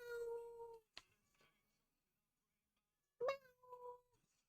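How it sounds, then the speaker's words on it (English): A house cat meows twice, each call a clear drawn-out tone close to the listener: one at the start, then a second after a long silent pause, with a faint tap in between. "Now she's out there. Meow,"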